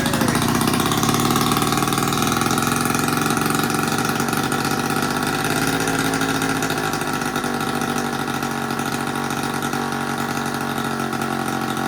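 A small scooter engine idles steadily and loudly up close, a continuous buzzing drone with a slightly uneven, rough rhythm, running alone for the whole stretch.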